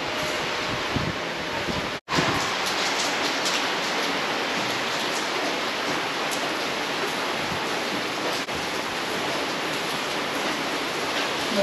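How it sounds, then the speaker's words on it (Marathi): Heavy rain pours down outside in a steady, dense roar that continues almost unbroken, with only a brief dropout near the start. "जोरदार पाऊस चालू आहे मित्रांनो."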